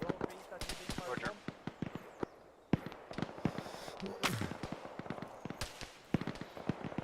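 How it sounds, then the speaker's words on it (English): Gunshots in the Arma video game, a scatter of sharp cracks and pops at varying distances, some sounding far off to one side, heard under soldiers' radio chatter. "More shots from the southeast."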